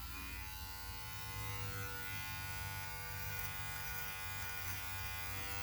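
An electric beard trimmer hums continuously and close up while trimming one side of a beard, a steady, even buzz with no pauses or talking.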